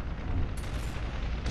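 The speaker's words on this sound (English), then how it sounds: "I do not want to get sniped with those boom shots" A Boomshot grenade-launcher explosion in Gears of War Ultimate Edition multiplayer, a dense low rumbling blast that fills the short moment at moderate loudness, with sharp debris crackle rising partway through and again at the end.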